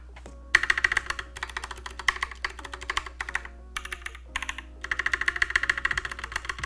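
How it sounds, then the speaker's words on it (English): Crisp clacking of keycaps on a TKL mechanical keyboard in bursts of rapid typing, each press sharp and close, with short pauses between runs. "There's like no rattle with this keycap."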